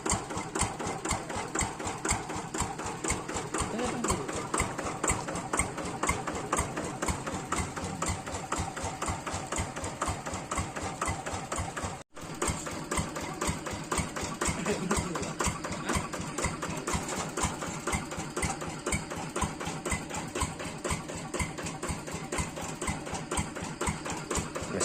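A new hand tractor plow engine idles nearby with a steady, rapid chugging pulse that runs loud and even throughout, broken only by one brief dropout midway.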